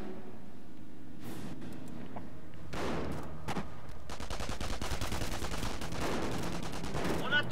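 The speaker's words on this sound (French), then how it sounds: "La mitrailleuse de caisse marche." A hull-mounted tank machine gun fires in the Company of Heroes: Tales of Valor war game, rapid bursts of gunfire rattling over battlefield noise, several short volleys that pick up into sustained firing.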